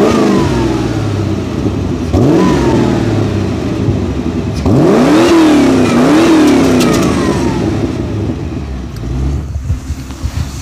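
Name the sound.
Toyota AE86 engine revving while stationary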